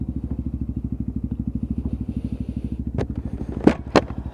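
A Lexmoto ZSX-F 125cc motorcycle idles steadily with a close, even single-cylinder throb. Near the end there are a few sharp clunks and scrapes as the bike is pushed up onto its stand.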